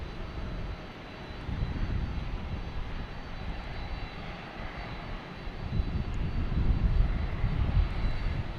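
A JetBlue Airbus A220 takes off from Boston Logan Airport with a broad, steady jet roar that swells and fades slightly, heard from a distance without any talking.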